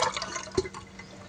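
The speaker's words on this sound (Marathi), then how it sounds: "आता हे पाणी आपल्याला निथळून घ्यायचं आहे." Water draining off washed cream (malai) being prepared for homemade ghee, a soft trickling and dripping with one brief splash midway, close and fairly quiet.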